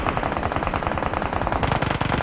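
Rapid bursts of gunfire crackle nonstop, loud and close, like an automatic weapon hammering out a steady stream of shots.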